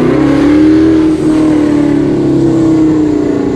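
Close, loud engine note from a 1000-horsepower turbocharged car running about 14 to 16 pounds of boost, a sustained rising rev with a brief dip partway through, no voices over it.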